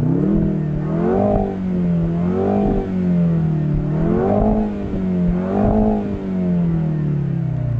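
A Jaguar F-Type P300 four-cylinder engine revs loudly and up close, its pitch climbing and falling in repeated waves across several blips of the throttle, with no talking.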